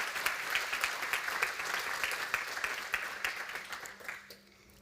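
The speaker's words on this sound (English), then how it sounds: "A big thank you to the speakers, and a big round of applause would be nice." Audience applause for the speakers at a sustainability panel session, a steady round of clapping from a seated crowd that fades out near the end.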